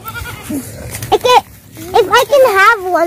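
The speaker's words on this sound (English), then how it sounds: "I want to have this baby goat." A baby goat on a mountain farm bleats several times, short wavering cries that come close and loud, mixed in with a person talking.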